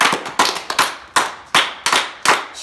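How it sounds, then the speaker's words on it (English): A group of people clapping hands in unison at a teenager's birthday party, loud sharp claps in a steady rhythm of about eight beats, close and with no talk over them. "Everybody, clap your hands."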